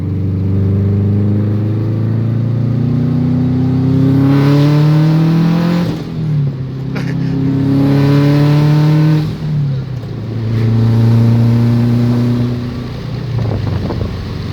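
A loud turbocharged Subaru WRX engine revs up repeatedly in rising, whining sweeps, heard from inside on a ride along, each climb dropping off before building again, with a hissing rush and wind noise throughout.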